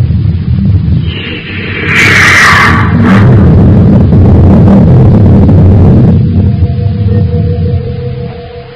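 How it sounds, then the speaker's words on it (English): A spaceship blasting off in an old-time radio drama effect, a loud sustained rocket roar with a rising whooshing burst early on, then settling into a steady rumble before a fading hum. "As the commander's ship blasts off from Terra and eases into its flight orbit through Venus"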